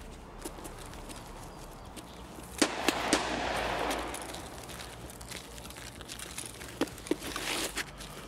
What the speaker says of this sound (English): Sounds like he's got a pretty beefy gun as well.